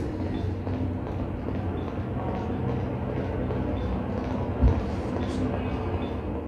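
A steady low rumble of a moving train in Half-Life 2, with rattling undertones, a single clunk midway, and muffled voices faintly beneath.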